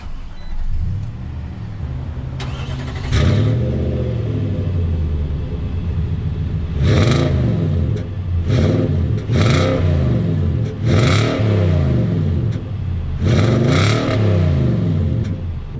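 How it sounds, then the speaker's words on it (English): A 2019 Nissan Titan Platinum Reserve pickup's V8 engine cranks and rumbles to life, then settles into a deep idle broken by several strong revs that rise and fall. "Let's start this truck and let's see how this thing sounds."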